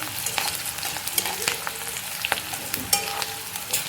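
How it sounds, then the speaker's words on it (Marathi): Chopped onion sautés in hot oil, a steady crackling sizzle with louder pops and stirring scrapes scattered throughout, close and fairly loud with no voices. "कांदा घालूयात, चांगलं आपण आहे ना परतून घेऊया।"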